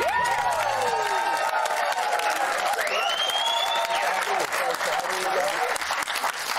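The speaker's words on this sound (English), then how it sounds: "clap together for Jason Donovan" A television studio audience breaks into loud, sustained applause with cheers and whoops as actor Jason Donovan is welcomed, the crowd noise filling the room throughout while voices call out over it.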